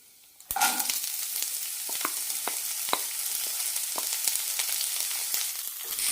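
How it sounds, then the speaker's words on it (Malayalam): Green beans tipped into a pan of fried lentils for a bean and lentil usili burst into a sharp sizzle, then keep frying with steady crackle and scattered pops and stirring scrapes, close and alone. "പരിപ്പുകളൊക്കെ ചോന്നിട്ടുണ്ട് ഇതിലേക്ക് ബീൻസ് ഇടാം"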